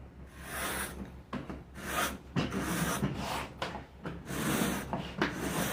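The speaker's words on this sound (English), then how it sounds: "it comes in quite convenient if you want to strip this agave plant down for its fiber" A shell scraped repeatedly along an agave leaf to strip out its fiber, producing close rasping strokes in irregular bursts with short pauses between them.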